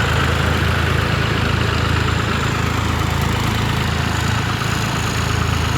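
John Deere and New Holland farm tractor engines run side by side at a set 1000 RPM, a steady, close diesel drone with even low throbbing that never changes pace, and no talk over it.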